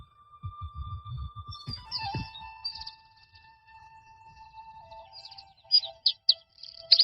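Birds chirp and sing, with clear whistled tones, short repeated tweets and thin high notes, near and moderately loud, over some low rumbling in the background and no speech.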